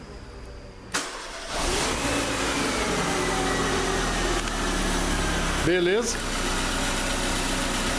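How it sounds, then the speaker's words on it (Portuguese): A Peugeot 207 1.4 8v 2010 car engine cranks and catches about one second in after cylinder head reassembly, then settles into a steady idle, with a brief rev near six seconds and a short spoken word. "Motor funcionando."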